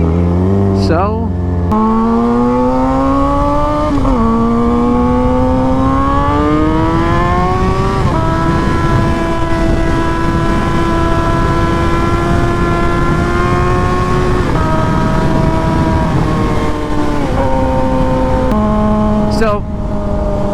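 A loud Suzuki GSX-R 750 motorcycle engine revs hard and pulls away, its pitch climbing in sweeps, holding high for a stretch, then dropping and surging again, close and dominant throughout.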